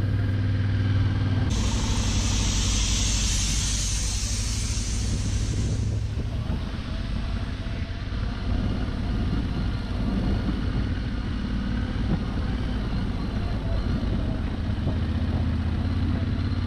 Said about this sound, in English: trying out my Yamaha Tenere 700 bike's off-road capabilities